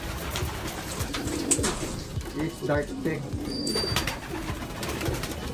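Long-distance racing pigeons coo softly in low, throaty murmurs while a person talks over them, with a few faint chirps mixed in.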